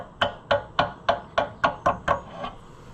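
Eight sharp metallic hammer taps on a junkyard Oliver Super 77 tractor, in a steady rhythm, evenly spaced about a quarter second apart, close by with no talking.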